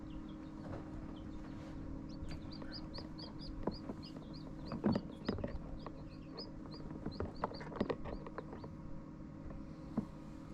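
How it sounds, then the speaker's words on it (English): Newly hatching chicks peep in rapid, high, repeated chirps, close by but fairly soft, over a low steady hum with scattered small taps and rustles. "It's quite amazing to be able to watch these little chicks hatch."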